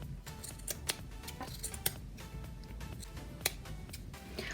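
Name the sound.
scissors trimming edges of a yarn pom-pom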